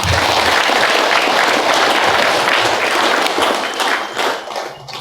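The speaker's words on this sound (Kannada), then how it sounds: "ಅದಕ್ಕೆ ಪ್ರಕೃತಿಗೆ ಒಂದ್ಸಲ ಜೋರಾಗಿ ಚಪ್ಪಾಳೆ" Loud, sustained applause from a large outdoor crowd at an anniversary gathering and vegetarian rally in Gauribidanur, steady for several seconds before thinning and fading toward the end.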